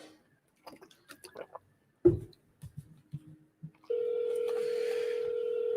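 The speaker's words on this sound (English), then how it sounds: "Oh, look, it's ringing now." A telephone call rings through on the line: a few quiet clicks and taps, then a steady, continuous ringing tone that holds unbroken to the end.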